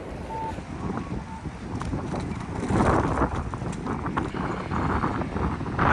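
Cold wind blowing outdoors in Tokyo, a loud continuous rush buffeting the microphone, swelling stronger in the second half.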